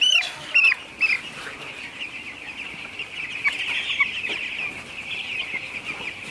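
Fifteen-day-old broiler chickens on a poultry farm cluck and chatter steadily close by, with a few louder sharp clucks near the start over a constant flock murmur.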